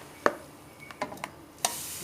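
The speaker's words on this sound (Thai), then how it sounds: "เราก็มาตั้งกระทะนะคะ เราก็จะเอากบมาคั่วเนาะ" A few sharp scraping clatters and ticks of finely chopped frog being stir-fried in a pan, spaced irregularly over a quiet background with a soft sizzle.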